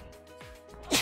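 A sudden, close sneeze bursts out at the very end of a quiet moment, loud and breathy. A faint musical background from a Danganronpa V3 game stream plays beneath it.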